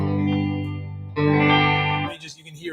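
A Fender Telecaster Deluxe electric guitar rings out sustained chords through an effects unit, one held chord then a brighter, louder strum that decays, fairly loud with no talk over it.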